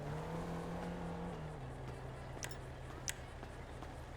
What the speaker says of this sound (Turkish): Allah benim motorun sesleri gelmeye başladı.